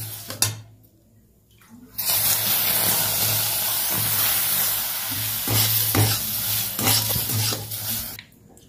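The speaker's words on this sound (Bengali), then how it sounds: "এভাবে আমি সুজিটাকে নাড়তে থাকবো, একটু করে জলটা দেবো আর নাড়তে থাকবো" Toasted semolina for halwa is stirred in a pan as water is added, a loud, steady hiss and bubbling sizzle with repeated spoon scrapes, starting after a brief quieter moment.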